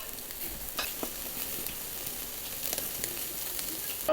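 Meat grills over glowing charcoal in a brazier, giving a soft continuous sizzle with scattered small crackles and pops. It is quiet and close, with no voices.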